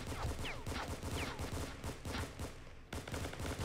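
Rapid bursts of gunfire in the War Inc video game, dense and continuous, with overlapping shots and a brief dip in the barrage near the end.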